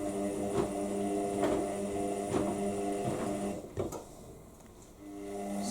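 An Indesit IWME146 integrated washing machine tumbles its drum during a FlashClean 50°C programme, a steady motor hum with rhythmic swishes about once a second, briefly dropping before the drone resumes.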